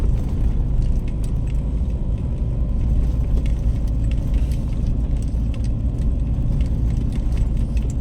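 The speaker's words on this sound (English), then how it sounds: "I hope I'm driving up the right road." A car drives up the access road to the Kamalang Ek golf course in Loei, Thailand, heard as a steady, close engine and road rumble with faint rattles and no talk.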